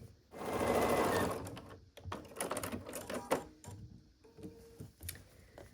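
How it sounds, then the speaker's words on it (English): Sewing machine stitching the final seam of a star-in-a-star quilt block, starting with a loud steady run, then stopping and restarting in shorter bursts mixed with clicks and handling noises, close by. "We just need to sew this final bit together."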